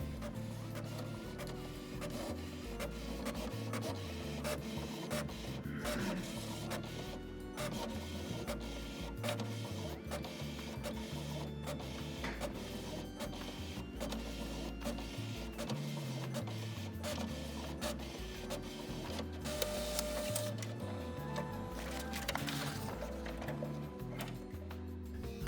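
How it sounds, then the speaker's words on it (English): An old printer chatters through a print job with rapid mechanical ticking and whirring print-head passes, its carriage motor stepping up and down in pitch, close and moderately quiet with no voices. "Here's a shot of the printer working."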